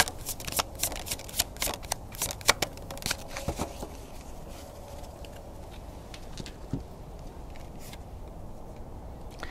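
A deck of oracle cards is shuffled by hand, with quick bursts of riffling and flicking cards, close and crisp, busiest in the first few seconds and then sparser taps.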